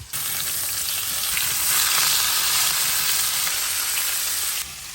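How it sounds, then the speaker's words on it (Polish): Loud, continuous sizzling of pork neck frying in a hot pan, close and steady throughout, with no talking. "I smażymy. Aż się zwęgli."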